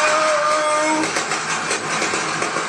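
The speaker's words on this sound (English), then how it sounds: "Those drive shafts are going to be screaming, enough, enough, when they leave the line" Mitsubishi and Subaru rally cars launch off a tarmac start line at an X Games race, a loud roaring engine and drivetrain whine sweeping up then blurring into a steady rush of noise.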